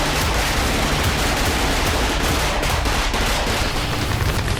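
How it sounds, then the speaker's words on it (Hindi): Sustained gunfire crackles in a dense, continuous barrage, loud and unbroken throughout, as heard in a news report on fighting between Israeli forces and Hezbollah. "वैसे ही वीरान इलाकों में अचानक बरसने लगती है गोलियां।"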